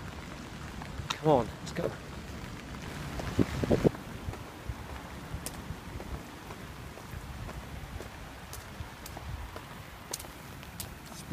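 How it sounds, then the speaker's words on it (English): Torrential rain pouring down on a walker outdoors, a steady broadband hiss with wind buffeting the microphone throughout, while someone talks briefly over it near the start. "Torrential rain here."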